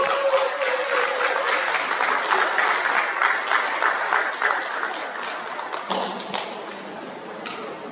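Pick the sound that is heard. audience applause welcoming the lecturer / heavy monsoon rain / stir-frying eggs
audience applause welcoming the lecturer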